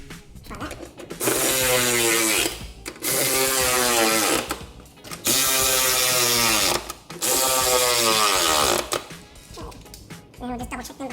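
Rapid ratcheting clicks from a socket wrench tightening bolts on a Holden Torana cylinder head come in four long bursts of about two seconds each, loud and close, with short pauses between the runs.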